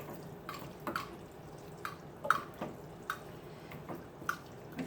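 A spaghetti fork stirs spaghetti, meatballs and sauce in a pan for Italian baked spaghetti, giving soft wet squelches and light clicks that repeat irregularly at close range with no talking.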